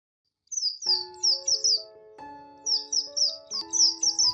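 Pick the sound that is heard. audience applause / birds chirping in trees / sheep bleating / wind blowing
birds chirping in trees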